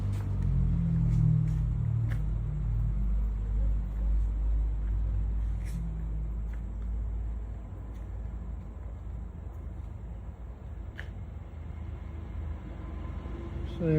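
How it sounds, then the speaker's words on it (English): Steady low rumble of road traffic drifts from a distance at a seaside resort in Cebu. A few faint clicks rise over the constant hum. "you're set back from the road enough that there isn't tremendous traffic sound. There is some, but it's not bad."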